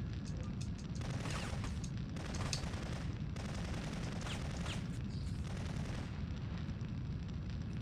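Gunfire and explosive bangs in the Syphon Filter video game, a dense, steady rumble of shots and booms lasting the whole stretch at moderate level, with no voices over it.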